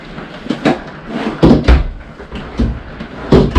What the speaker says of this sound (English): Below the stove, you're going to have a couple drawers.